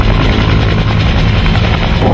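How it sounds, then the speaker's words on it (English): A Bell UH-1N Huey, a medium-sized twin-engine US military utility helicopter, gives a loud, steady, close rotor and engine roar that fills the whole stretch without pause. "UH-1N Huey is a medium-sized twin-engine utility helicopter that was developed by Bell Helicopter for the United States military."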